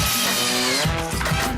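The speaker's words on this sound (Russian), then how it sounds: "мы сначала прикручиваем профиль, потом мы его выкручиваем" A power screwdriver drives screws through a metal profile into drywall, a close, busy motor whir that shifts in pitch as the screw bites, heard alone without talk.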